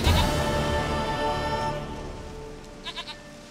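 A goat in The Witcher 3 gives a drawn-out, wavering bleat that fades, followed by a couple of short, quieter bleats near the end, with no talking.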